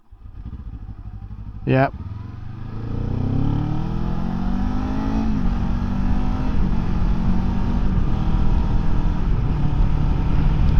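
A Kawasaki Ninja 7 Hybrid motorcycle pulls away from a stop, its engine note rising steadily and holding a continuous drone, preceded by a brief sharp transient, with a voice speaking briefly over it.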